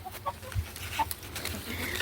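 Chickens in a garden coop give scattered soft clucks before feeding time, faint and intermittent against light background noise.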